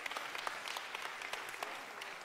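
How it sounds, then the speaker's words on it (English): A church congregation breaks into sustained applause, a dense patter of many hands clapping at moderate volume throughout. "Wait before you clap"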